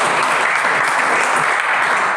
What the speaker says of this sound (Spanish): quiero que también le dé un fuerte aplauso hoy aquí los pastores y pastoras que nos han acompañado de Resplandece